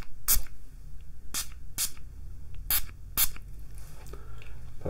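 A spray bottle mists hair in short, sharp hissing bursts, about five quick sprays at uneven intervals, close by with quiet pauses between, in a barber shop.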